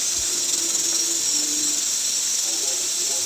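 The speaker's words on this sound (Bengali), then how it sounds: "তো চলো এক এক করে লুচিগুলো ভেজে নিই" Luchi puris frying one by one in hot oil, giving a steady bright hiss and sizzle that stays even and close throughout, with a faint hum underneath.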